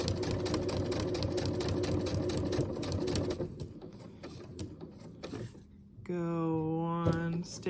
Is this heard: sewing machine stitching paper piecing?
yes